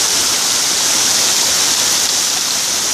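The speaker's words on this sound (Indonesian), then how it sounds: "sampailah juga pada tempat, yaitu air terjun 7 Bidadari" Tujuh Bidadari waterfall roars continuously, a steady broadband rush of falling water, close and loud with no pauses.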